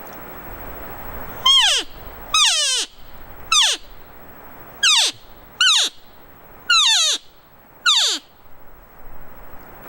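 Green Wienie cow call with a thin reed, blown by mouth: seven short, loud, nasal descending mews, evenly spaced, close and alone.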